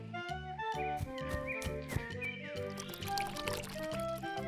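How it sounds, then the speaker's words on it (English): Water pours into a bucket in a children's cartoon, a brief liquid pour under bright, bouncy background music. "Let's go get water in a bucket."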